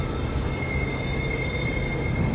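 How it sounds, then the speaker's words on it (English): A train arrives at a platform, rumbling steadily and loudly nearby, with high metallic wheel squeal ringing over the continuous low roar. "Got another train coming along here now too"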